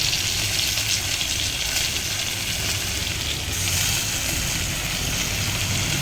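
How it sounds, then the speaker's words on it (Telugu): Coriander leaves and tomatoes dropped into a hot pan of oil while making village-style okra bajji, giving a steady, loud broadband sizzle and frying hiss that runs throughout without speech. "ఇప్పుడు ఇందులో కొత్తిమీర ఆకు అలానే టమాటాలు వేసుకుంటాం"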